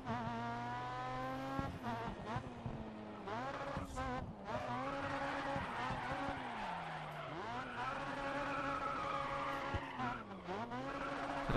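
Race car tires skidding and squealing in the racing game Grid Autosport, loud and continuous over a droning engine with pitch sweeps as the car slides through a corner, engine revving throughout.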